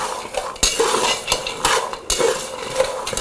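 Clattering pan sounds with scraping and stirring, repeated metallic knocks and a soft sizzling hiss as groundnuts (peanuts) are tossed and fried in sand in a pan.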